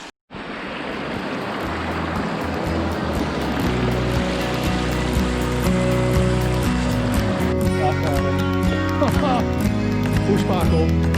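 A loud, continuous rush of flowing river water close by on an off-road trip, steady and broad, with other sounds faintly mixed in.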